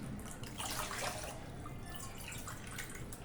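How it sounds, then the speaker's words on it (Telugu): Water pours steadily into a pan for preserving mango pulp, with a continuous splashing, gurgling rush, fairly close and moderately loud. "కప్పుకు రెండు కప్పులు వాటర్ పోస్తున్నాను"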